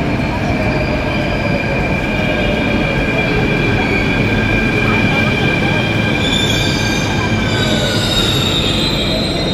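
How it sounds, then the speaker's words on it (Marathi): A Mumbai metro train pulls into a station, its wheels squealing loudly and steadily over a continuous rumble of rail noise, close by and sustained throughout. "चला आली आपली मेट्रो"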